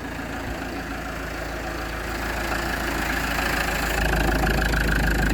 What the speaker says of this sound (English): All right, neutral, let's start him up.